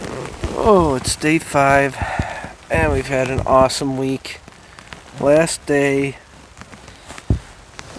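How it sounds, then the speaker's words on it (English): Light misty rain patters softly on a hammock tent at a wilderness camp in Canada, a faint, steady hiss that runs beneath someone talking throughout. "the little pitter patter that's going on right now. It's almost like a mist."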